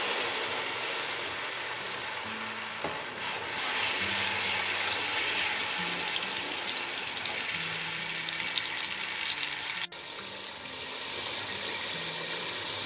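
Masala paste with tomato and spices fries in hot ghee in a pan, a steady, even sizzle and hiss that runs without a break, with a brief clatter midway.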